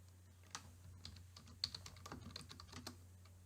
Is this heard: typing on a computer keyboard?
yes